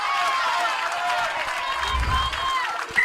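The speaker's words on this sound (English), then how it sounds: "Crowd favourite is Abdullah Hadi as they cheer his return to his feet." Rugby crowd at a schools rugby league match between Wesley College and S. Thomas' College cheers and applauds a player getting back to his feet, a broad continuous roar of voices and clapping that swells briefly.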